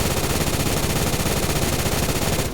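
Sustained MG3 machine gun fire in Phantom Forces, a fast unbroken stream of loud, close automatic shots that runs for a couple of seconds with no talking, then cuts off abruptly.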